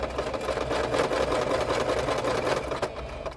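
A sewing machine runs steadily while stitching the seam of a two-piece surgical scrub cap, giving a continuous close mechanical whir for a few seconds with no talking.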